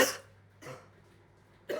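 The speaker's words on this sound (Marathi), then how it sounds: "पावसामुळे खोकला देखील झालाय" Three short, sharp coughs from a person with a cough brought on by rain, the first two spaced apart and the third at the end, each close and distinct against a quiet room.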